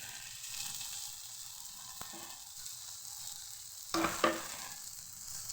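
Ragi dosa cooks on a pan with a little oil, giving a soft, steady sizzle close by, with a couple of brief clinks and scrapes near the end as the dosa is handled.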